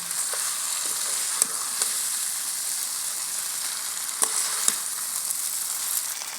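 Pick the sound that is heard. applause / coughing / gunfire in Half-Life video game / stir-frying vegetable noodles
stir-frying vegetable noodles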